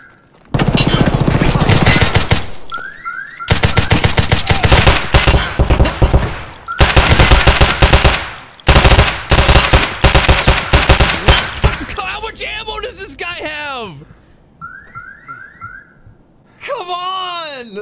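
Long bursts of automatic gunfire in the video game Escape from Tarkov, several loud sustained volleys separated by short pauses, followed by quieter warbling tones and a final burst, with some talk.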